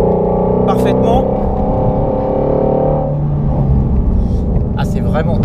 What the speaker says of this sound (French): il y a un tel bruit à l'intérieur de l'habitacle, je ne sais même pas si vous m'entendez parfaitement